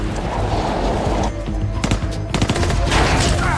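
Rapid bursts of gunfire crack through a loud, busy movie chase scene, with sharp shots clustering near the end over a dense rumbling background.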